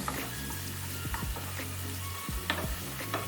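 Seasonings and dry basil are stirred through cassava in a frying pan. A steady sizzle sits under several distinct scraping strokes of the utensil, all close and unaccompanied.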